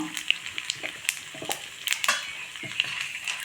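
Urad dal and dried red chili crackle and sizzle in hot oil for a tempering, a steady bright frying hiss with scattered sharp pops throughout, close and alone with no talk.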